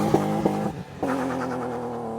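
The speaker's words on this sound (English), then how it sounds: "We're running a custom exhaust. That was done prior to my ownership, so I don't know exactly what's been done. It sounds pretty nice, to be fair," BMW E36 with a swapped M50B25 straight-six and a custom exhaust revs hard, two sharp blips followed by a sustained loud, rasping drone, close up.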